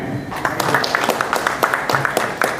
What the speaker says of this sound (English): Guys, a round of huge applause